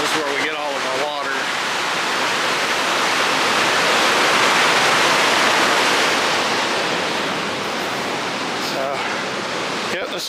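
Rushing water of Arizona Falls on a Phoenix canal roars as a loud, steady broadband wash that swells slightly midway, with brief voices near the start and end.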